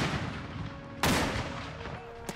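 Artillery guns fire in battle, with one sharp loud boom partway through and a fainter second shot near the end over a dense rumbling background.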